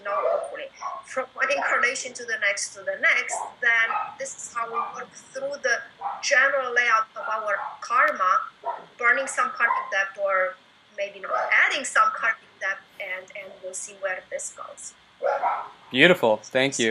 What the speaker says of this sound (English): We have a lot of dogs here, and they're pretty loud.